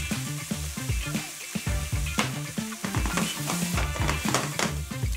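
Wheat is tipped onto caramelized leeks in a hot pan, sizzling and crackling continuously up close while a utensil stirs and scrapes the grains around in a busy, uneven rhythm.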